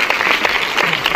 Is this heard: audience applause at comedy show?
yes